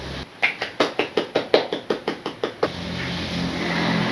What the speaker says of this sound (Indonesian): Beri aplaus semuanya.